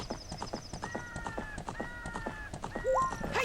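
A horse gallops across a field in Ocarina of Time, a steady rapid clip-clop of hooves under game music, with a few high tonal chimes.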